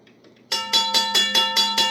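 A small gong or bell set is struck several times in a steady, even rhythm, each ring loud and close with a bright, sustained metallic tone.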